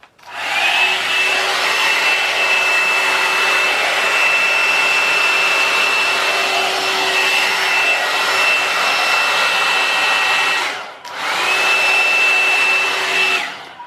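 A cheap 17-euro hot air blow-dry brush runs while straightening hair. Its loud, steady blowing whine cuts out briefly near the end and then starts again.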